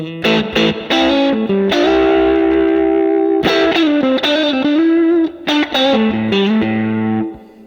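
Electric guitar through a Fender amp model in a Neural DSP plugin, warm tone, chords and single notes ringing out with some grit, played alone and fading at the end.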